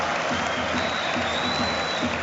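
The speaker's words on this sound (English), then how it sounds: "there's a special cheer for Højlund here" Football crowd at a Man Utd vs Rangers Europa League match giving a special cheer and applause as a substitute comes on, a dense steady roar of clapping and cheering with no gaps, heard from the stands.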